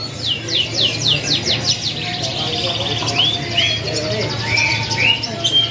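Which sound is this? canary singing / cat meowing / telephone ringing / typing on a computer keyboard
canary singing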